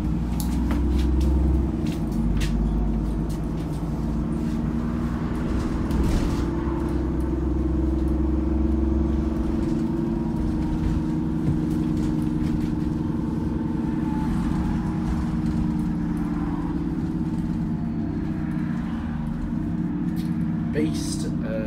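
A Dennis Trident Transbus ALX400 double-decker bus idles with a steady, low diesel rumble throughout, loud and close, with a slight surge near the start.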